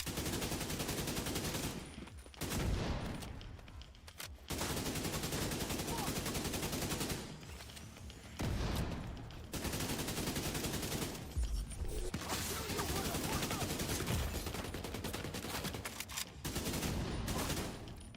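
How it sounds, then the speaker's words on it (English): Bursts of AK rifle gunfire in a video game ring out in several long automatic volleys with brief gaps, loud and close, with some talk at times. "Gotta love a good old AK, huh?"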